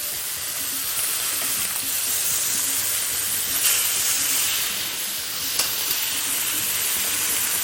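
Scallops sizzling in a hot pan right after being flipped, a steady close frying hiss with a few soft stirring scrapes and brief louder crackles.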